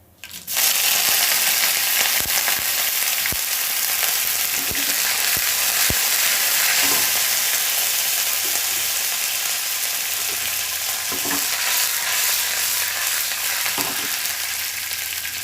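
Spices temper in hot oil for a masala dal, with a loud, continuous crackling sizzle that starts abruptly and holds steady. Scattered clicks and scrapes of a spoon or pan come through up close, with no talking.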